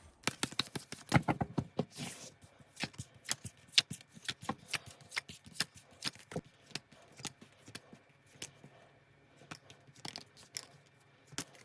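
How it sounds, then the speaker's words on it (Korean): Tarot cards shuffled and drawn by hand: a dense run of crisp riffling flicks and snaps, close and fairly loud, thinning into scattered taps and slides of individual cards with no voice. "이렇게 카드를 뽑아봤는데요"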